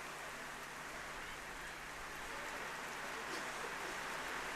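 Heavy rain pours down on a sports field during a women's hockey match between North Harbour and Auckland, a dense, steady hiss that fills the whole stretch without letup.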